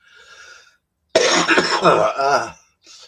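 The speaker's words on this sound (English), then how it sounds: "got a cough now" A single harsh, rasping cough up close, followed by a throat-clearing rumble, with a faint voice before and after.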